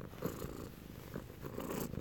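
A cat purrs up close in steady, rumbling pulses that swell and ease in short waves, with no other sound over it.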